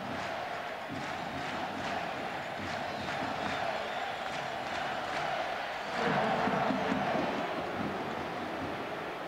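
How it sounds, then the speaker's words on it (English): Large baseball stadium crowd at an American League playoff game between the New York Yankees and Oakland Athletics, roaring and cheering continuously with scattered claps, swelling louder near the end. "this crowd now is really rocking and rolling"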